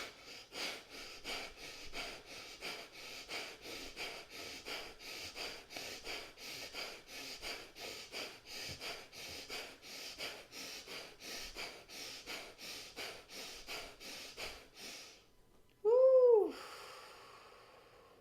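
Rhythmic deep breathing during an energy-boosting exercise, steady in-and-out breaths repeating close up for about fifteen seconds, then a brief louder whooshing exhale near the end.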